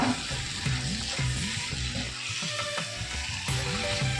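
Avial vegetables being mixed in a pan, with a steady sizzle under repeated scraping and stirring strokes of a spoon against the pan, close and continuous, with no voices.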